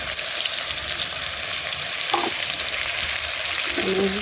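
Steady, loud frying sizzle of garlic, ginger and chili paste in hot oil throughout, with a couple of brief stirring scrapes near the middle and end.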